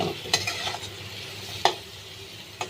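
Fried egg curry with spices is stirred in a pan under a steady soft sizzle, with three sharp utensil scrapes against the metal spread across the stretch.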